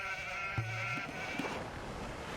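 A single short sheep bleat from the video game Age of Empires rises over quiet ambient game sound and soft wind-like background, faint and low in level.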